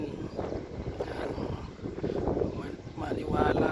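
Gusting wind buffets the microphone in a steady rumbling roar on a farm in Hamilton, New Zealand, with faint voices in the background.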